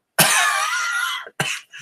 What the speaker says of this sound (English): I don't know if I'm gagging or if I'm coughing.